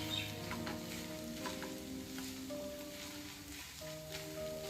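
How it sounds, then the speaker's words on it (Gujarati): Spinach, paneer and mint kabab mixture sizzles steadily in a pan over low heat, with soft scraping as a spoon presses it down and no voice. "5 થી 10 મિનિટ આપણે આને ધીરા તાપે આમ જ ચઢાવવાનું છે અને આ રીતે દબાવતા જવાનું છે ચમચાથી"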